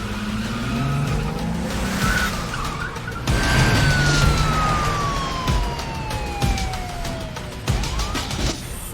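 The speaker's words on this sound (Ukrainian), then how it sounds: "То зараз буде швидкісна погоня." Film car chase with a car engine roaring and tires skidding and squealing, plus a long descending siren-like whine sweeping across the middle, loud and continuous with no talk.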